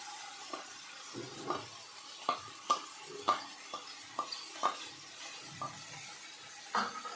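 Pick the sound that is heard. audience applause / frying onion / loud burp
frying onion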